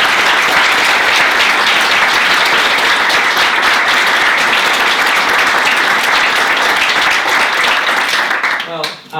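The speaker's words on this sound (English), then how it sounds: "let's give another round of applause for" A large audience at an evening art panel event applauds loudly and steadily, dense clapping filling the room for about nine seconds before tapering off at the end.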